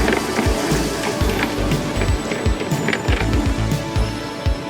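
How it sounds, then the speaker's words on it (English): Rain falls heavily while a Sinclair C5 electric tricycle rolls along, a loud, dense hiss of rain with wind and road noise and irregular low thumps from bumps, continuous throughout. "There's rain everywhere."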